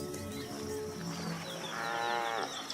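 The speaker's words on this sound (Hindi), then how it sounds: "पानी से रंभाने की हल्की आवाजें आ रही हैं।" A small herd of African buffalo standing knee-deep in water lets out low, drawn-out moos and groans, layered over a murmuring wildlife ambience, with a louder call rising toward the end.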